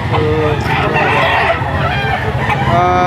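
Crowing of a Goldenboy gamecock at a poultry sale, loud and close, with clucking and other fowl calling around it in a noisy yard.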